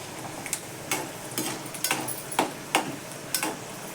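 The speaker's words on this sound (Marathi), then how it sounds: "शेंगदाणे तळून घेते. असे शेंगदाणे छान तळून घ्यायचे." Peanuts fry in hot oil for a fasting chivda, giving a soft steady sizzle broken by regular light clicks and taps of a spoon against the pan, close by.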